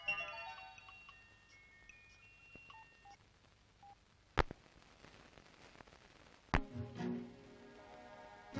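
Touch-tone keypad dialing on a telephone: a quick run of short beeping tones in the first few seconds, followed by a couple of sharp clicks and a brief burst of line noise near the end.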